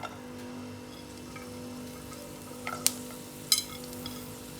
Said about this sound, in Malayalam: 2 ടീസ്പൂണോളം എണ്ണ ഒഴിച്ചിട്ടുണ്ട്. ഇതിലേക്ക് നമുക്ക് വെളുത്തുള്ളി ആഡ് ചെയ്യാം.